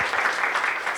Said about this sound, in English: Let's have a round of applause for Anita.